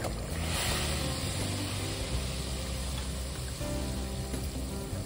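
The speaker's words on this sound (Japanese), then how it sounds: "鍋が沸騰してきましたので、ここにおよそ小さじ1の重曹を入れます。" A pot of water at a rolling boil on the stove, just before baking soda goes in for soaking bracken fern shoots; a steady, close, dense bubbling and hissing wash that holds the same level throughout, with no talk.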